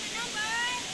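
A gigantic waterfall pours down heavily, a dense continuous roar of falling water that stays steady and loud, with a voice faintly present under the rush.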